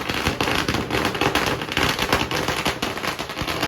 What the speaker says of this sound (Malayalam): പിന്നെ പടക്കം പൊട്ടിക്കലേക്കാണ് കേട്ടോ കിടക്കുന്നത്